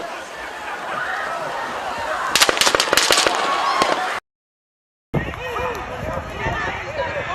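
Gunfire in a rapid burst of sharp, cracking reports fired close together, loud over excited voices and background noise, followed by a brief dropout and more shouting.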